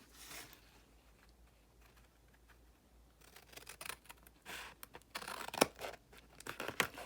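Scissors handled and snipping during a crafting project: quiet rustling at first, then a run of close, crisp cuts and sharp clicks that grow busier toward the end, with no voices.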